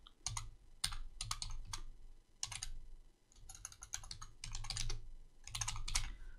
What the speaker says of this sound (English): and I'm going to type in